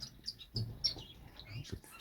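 Star finches and other finches in an indoor bird shed give faint, high, scattered chirps and tweets, with soft low thumps of movement in between.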